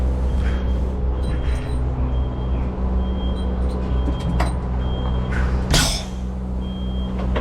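Compressed air hisses sharply from the red air line as it is disconnected from a lorry trailer, a short loud burst near the end over a steady idling diesel engine drone.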